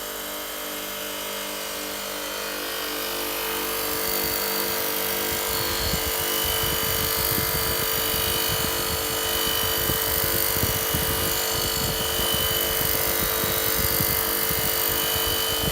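Buffing wheel running against an antique brass Rega sprayer coated with polishing compound, a steady motor whine that swells into a rougher, fluctuating grinding hum as the metal is pressed onto the wheel.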